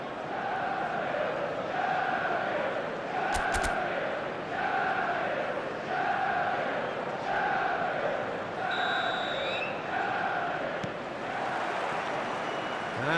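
A stadium crowd in the eFootball video game chants in a steady, repeating rhythm, a loud continuous roar with regular rising cheers and a brief whistle-like tone partway through.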